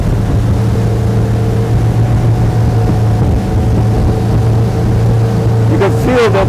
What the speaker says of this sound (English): You can feel that it is a big boat, but still, it's so easy with the steering.